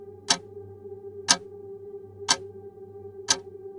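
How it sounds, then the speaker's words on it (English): A clock ticks faintly and steadily, four sharp ticks about one second apart over a low, constant background hum, with no voices. "in the background, a faint ticking can be heard."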